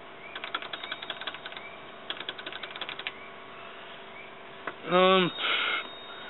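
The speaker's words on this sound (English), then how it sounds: "And it's solenoid clicking." Inside a 2k5 Intimidator paintball marker, a solenoid clicks in quick rapid bursts, separated by pauses, before two short louder mechanical whirs close to the end.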